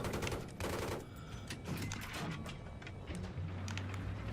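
Rapid gunfire from the Battlefield 3 video game, with dense automatic bursts and crackling shots continuing throughout, heard over game ambience with a low steady hum toward the end.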